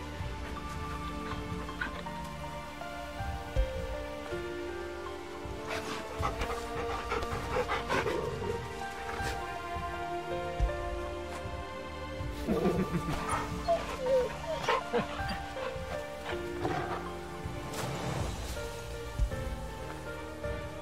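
In Final Fantasy XVI, a dog pants in quick, soft breaths, with a few faint barks mixed in. Steady rain-like ambience and game sounds run underneath throughout.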